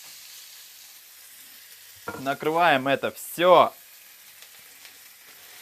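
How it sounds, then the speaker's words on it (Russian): Meat, along with chicken, frying in a pan greased with spray oil, giving a soft, steady sizzle in the background while someone speaks briefly. "я отправляюсь на обжарочку этого замечательного мяска"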